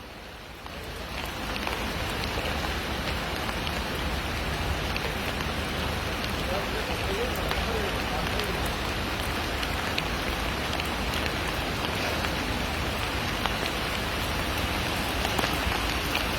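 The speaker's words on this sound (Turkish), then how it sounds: "Yağmur da çok yağıyor." Heavy rain pours down steadily in Ünye during a downpour, a dense, loud hiss of drops drumming on surfaces that holds unbroken for the whole stretch.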